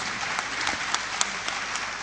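A conference audience breaks into steady applause, a dense, even wash of clapping with a few sharper claps standing out, close and continuous throughout.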